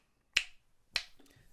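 Finger snaps keeping time with a metronome, three sharp crisp snaps spaced about half a second apart, close and fairly quiet in an otherwise silent room.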